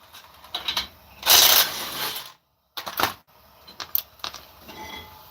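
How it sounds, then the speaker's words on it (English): A hand ratchet breaks bolts loose during brake caliper removal, giving short bursts of close metallic clicking and clatter separated by brief pauses and one moment of silence. "We can break the bolts now."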